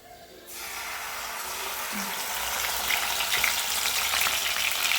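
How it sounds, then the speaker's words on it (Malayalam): Chicken legs drop into hot oil in a home kitchen and start frying with a sudden loud, steady crackling sizzle that holds and slightly builds, with no talking. "എണ്ണ ചൂടായി നമ്മളതിക്ക് ഇട്ട് കൊടുക്കാം"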